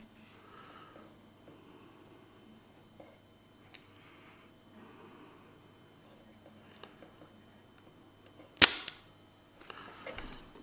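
A desoldering pump fires once with a sharp, loud snap near the end, while melted solder is cleared from the circuit board of a BMW E-series key fob, following quiet handling noises.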